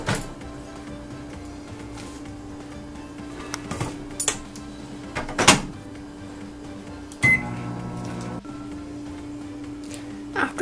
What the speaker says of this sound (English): now I'm going to microwave it